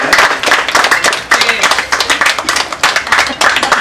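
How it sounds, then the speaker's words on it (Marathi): An audience at a Marathi public felicitation event for a local councillor bursts into loud, close, rapid clapping that continues steadily throughout, with a voice faintly underneath. "जोरदार टाळ्या झाल्या पाहिजे."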